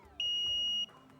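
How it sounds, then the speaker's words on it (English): A single electronic quiz buzzer sounds at a quiz competition, a steady, clean high-pitched tone lasting a little over half a second, loud against a quiet room. "Everybody, hands on your buzzers. On my signal, buzz in."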